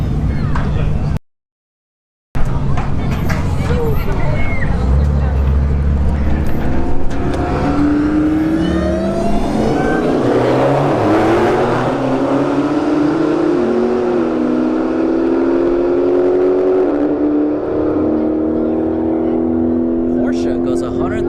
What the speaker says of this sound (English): 911 in the right lane. We have a Hellcat Challenger here in the left lane.